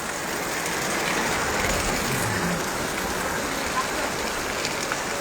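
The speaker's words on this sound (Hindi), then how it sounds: "दादा हीअ अथव बारिश" Heavy rain falling in Tando Qaiser near Hyderabad, Sindh, a dense unbroken hiss of downpour on surfaces, steady and close throughout.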